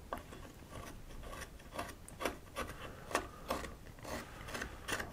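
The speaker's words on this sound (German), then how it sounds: "wenn man mit dem Daumen so ansetzt und dann ein bisschen hier über die Oberfläche des Holzes die Klinge bewegt" A knife blade is drawn across a wood surface while carving antler, producing faint, close scraping strokes in an irregular rhythm, each a short rasp, with no talking.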